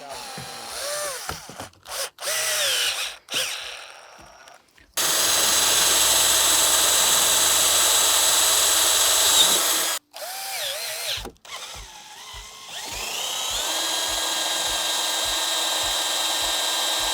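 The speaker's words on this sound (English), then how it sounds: "I'll finish screwing on the back side of here to fasten this in tight" Power drill driving screws to fasten a top-mount post onto a thick-walled aluminum handrail, loud close whirring bursts: several short runs, then one long steady run and further bursts, with no talk.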